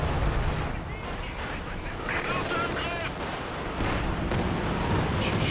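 Artillery barrage in Company of Heroes 2, a 2v2 match, with rolling, dense bursts of shell impacts and gunfire rumbling continuously, while a voice talks over it.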